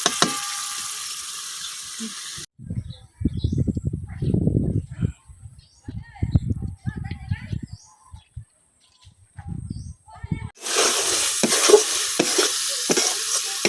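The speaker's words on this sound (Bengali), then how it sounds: "এখন মাছটা আমি কিছুক্ষণ কষাই দিলাম" Prawns frying with spices in a pan in a village kitchen, a broadband sizzle heard near at the start and again at the end, with a quieter middle stretch of clattering stirring and scraping, birds chirping faintly in the background.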